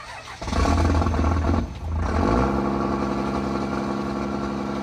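A burnout rig's car engine running close by, revving briefly before settling into a steady, even idle that holds smoothly to the end.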